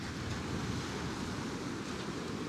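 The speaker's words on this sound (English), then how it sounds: "wind really picking up" Strong wind gusts across the microphone at Coney Island beach in late autumn, a steady broadband roar mixed with surf-like rushing that persists throughout.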